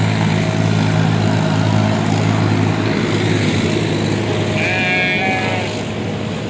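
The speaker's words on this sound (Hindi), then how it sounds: "बकरा है, बकरी है?" A goat bleats at Shahpur Kanjra livestock market in Lahore, one bleat standing out over a constant drone of engine noise and crowd murmur, fairly close.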